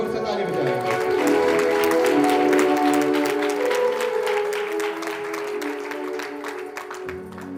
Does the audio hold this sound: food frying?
no